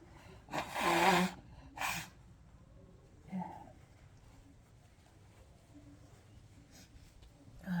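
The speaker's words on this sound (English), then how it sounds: "Just gonna blow my nose." A person blows their nose indoors during houseplant repotting, giving two loud, breathy nasal bursts close by, a longer one followed by a shorter one, then a faint snuffle and quiet room noise.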